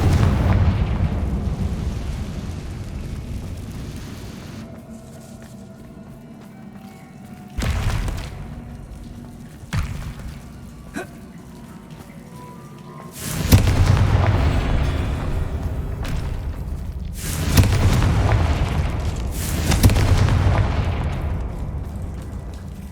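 Spell explosions from Bombarda and Confringo in the video game Hogwarts Legacy: several loud booming blasts burst out at intervals over a low rumbling game backdrop, with quieter stretches between the impacts.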